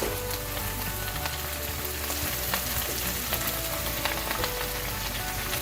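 Bok choy stir-frying with soy sauce in a hot pan gives a dense, steady sizzle and crackle, with occasional spatula scrapes, close and loud, no voices.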